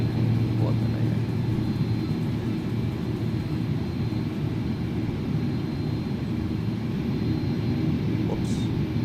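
An airliner's jet engines roar in a steady, heavy drone as it rolls for takeoff in the X-Plane 11 flight simulator, a constant loud low rumble throughout.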